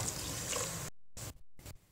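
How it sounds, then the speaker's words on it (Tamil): Water is poured from a tumbler into a cooking pot of leftover rice and dal for sambar rice, a soft steady stream that stops abruptly and is followed by a few short splashes. "இதில் 2 டம்ளர் தண்ணி ஊற்றிடலாம்."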